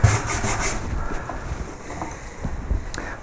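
A hand carving tool slices shavings from a wooden holly leaf, giving soft close scraping and rubbing strokes, with a few brief cuts near the start and quieter scratches later, no talk.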